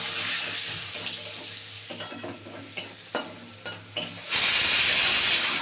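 Bay leaves dropped into hot oil for tempering, with light stirring clatter followed by a sudden loud, steady sizzle and hiss close to the pan.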